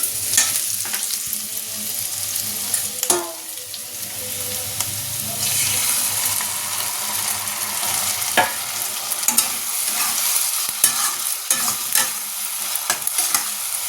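Sauce goes into chilli soybean in a pan and is stirred through, giving a wet sizzle with scraping stirs and occasional clinks, close and fairly loud, with no talk.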